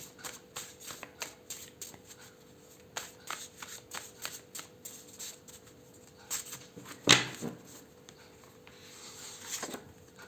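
A 45-card tarot deck being shuffled by hand at close range, repeated soft riffles and card flicks in an irregular rhythm, with one sharper louder snap partway through.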